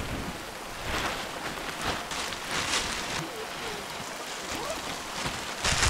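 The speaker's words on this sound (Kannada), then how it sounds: "ಮಳೆ ಬರುತ್ತೆ ಅನ್ನೋ ಒಂದು ಎಕ್ಸ್ಪೆಕ್ಟೇಷನ್ ಇತ್ತು, ಬಂದೇ ಬಿಡುತ್ತೆ ಮಳೆ" Rain falling during a mountain trek near a peak, a steady broadband patter with a few louder gusts, close and continuous throughout.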